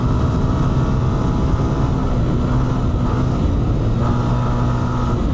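Honda CRF300F single-cylinder dirt bike cruising at speed in top gear on a desert ride, its steady loud engine drone and wind roar holding constant throughout, close to the rider.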